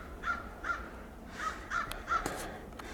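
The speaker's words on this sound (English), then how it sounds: "There's those crows again, guys." Crows caw in the woods, about five harsh calls spaced in an uneven rhythm, coming from a middle distance over a quiet outdoor background.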